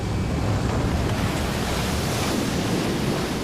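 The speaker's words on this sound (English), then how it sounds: "It's a place where waves from as far away as Japan collide headlong with the river." Ocean waves at the Columbia River bar, where Pacific swells collide with the river current: a dense, continuous roar of surf with wind noise, loud and unbroken, no voices.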